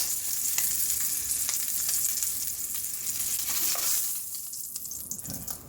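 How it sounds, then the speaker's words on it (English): Short ribs sear in a hot pan for red wine braised short ribs, giving a steady, loud sizzle and crackle with occasional sharp pops. It eases off slightly toward the end. "And we're going to sear on them."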